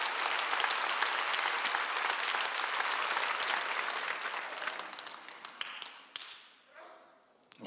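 A church congregation breaks into loud, sustained applause during a Sunday worship service, thick and continuous for several seconds before tapering off into a few scattered claps.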